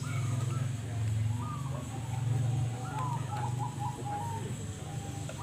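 Zebra doves (perkutut) coo at a local singing contest in Bulurejo village, Tulungagung, East Java, with repeated rhythmic cooing under a steady crowd hum and a low droning background.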